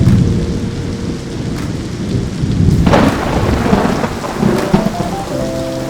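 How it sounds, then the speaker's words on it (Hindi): Thunder rolls in a deep, swelling rumble through steady heavy rain in the mountains of Bir Billing, loud and close, with rain hissing throughout and no voices. "ये बादलों की गड़गड़ाहट आपको सब कुछ बता रही है।"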